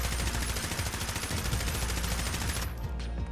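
An M4A1 rifle mod fires in Fallout 4 in a single sustained burst of fully automatic gunfire, loud and continuous for about two and a half seconds before stopping abruptly, with no voices over it.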